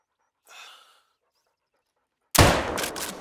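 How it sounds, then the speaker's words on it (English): A .44 lever action rifle fired while hunting a southeastern Spanish ibex in theHunter: Call of the Wild, one sharp loud blast with a short ringing tail, preceded by a brief faint breath-like sound and silence. "So I'ma use the 44 lever action rifle."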